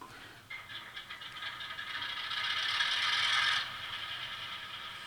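A GP7 model locomotive's sound decoder starts up with a faint mechanical rattling and clattering that builds to a louder grinding hum, then settles into a steadier running rattle.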